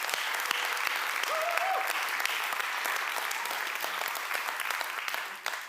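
Applause from an audience at the AxonIQ Con 23 software conference, congratulating Dominic and Azir, a steady full burst of clapping that stays loud throughout and eases off only at the very end.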